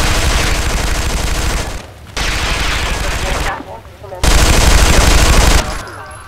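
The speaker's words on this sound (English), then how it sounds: "Ooh, somebody shooting at me." Rapid automatic gunfire from a first-person shooter game, Interstellar Marines, comes in three loud dense bursts separated by short near-silent gaps, with a brief voice heard between volleys.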